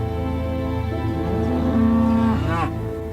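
Ruby Red cattle, an old native Devon breed, moo on a coastal farm at Wembury, a single long, loud, close bellow that rises and falls over about three seconds.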